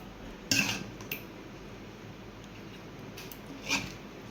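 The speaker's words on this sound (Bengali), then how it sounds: "এই যে এখন আমি এটা বক্স করে নিয়ে নেব।" Mutton rezala being packed into a box, with a few short clatters and scrapes of a container and lid, close by, separated by quiet gaps.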